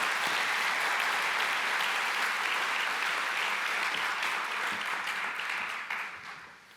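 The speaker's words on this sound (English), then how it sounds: "A big applause." An audience at a conference opening session claps in a dense, steady burst of applause that holds for several seconds, then tapers off at the end.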